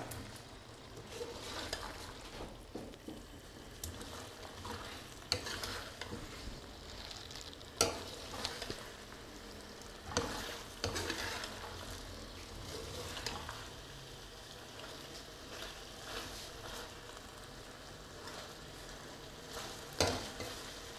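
Chicken and peas fry in a karahi in a village kitchen with a steady crackling sizzle, broken by repeated scraping stirs and occasional clinks of a spoon against the pan, close and moderately quiet.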